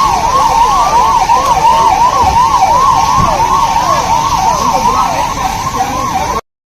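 A fire engine siren wails on arrival at a chemical-leak factory fire in the Bawal industrial area, a loud, close, rapidly repeating up-and-down yelp, with traffic rumble beneath, cutting off abruptly at the end.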